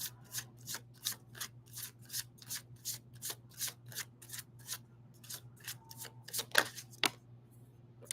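Tarot cards being shuffled by hand, a quick series of crisp riffling bursts in a steady rhythm of roughly two per second, close and fairly quiet over a low background hum, with no talking.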